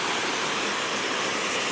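Nandi Waterfalls, a hidden waterfall near Madanapalle, pours with a steady, dense, full rush of falling water that stays loud and unbroken throughout.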